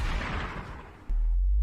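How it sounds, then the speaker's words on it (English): A single loud gunshot-like boom from a stream sound effect, a sharp blast with a decaying rumble followed by a second low thud near the end, no talk. "Are my gunshots too loud now"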